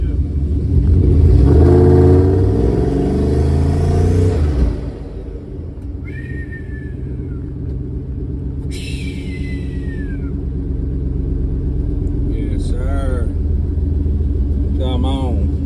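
An LS-swapped Studebaker engine revs hard and loud at first, then settles into a lower rumble while the car drives along. Whistling and other short tonal sounds come in over the engine.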